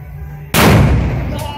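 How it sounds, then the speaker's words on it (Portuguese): A powerful firecracker bomb set off at a São João festival: after a low steady background, one very loud, close explosion booms and rumbles away over about a second. "Cuidado com essa bomba, pelo amor de Deus. Essa é forte."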